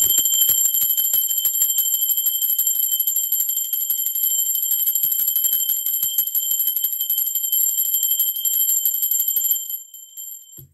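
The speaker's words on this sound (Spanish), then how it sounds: "¡Va, campana!" A bell rings with sustained high, pure tones, rapid tremoloed strikes holding steadily before cutting off and fading out at the end.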